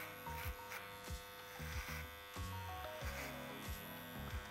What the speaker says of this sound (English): Use the comb to push down into the clipper, but also scoop out at the same time with the clipper.